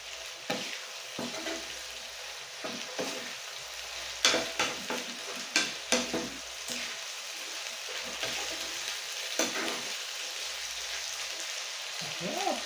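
Corned beef and eggs sizzle in a frying pan over a steady hiss, broken by scraping stirs and clinks of a utensil against the pan.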